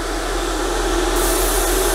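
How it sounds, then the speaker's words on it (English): Steady, hissing spray of an airbrush blowing out cellulose thinners to clean it, with a constant airy rush and a low hum underneath, growing slightly louder partway through. "and just spray it off. That should be cleaning out the inside of the airbrush."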